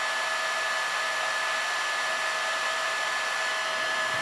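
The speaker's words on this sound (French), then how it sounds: "Et puis je fais au décapeur thermique," A heat gun used for soldering during a renovation project runs continuously, a steady close airy roar with a faint whine and no speech.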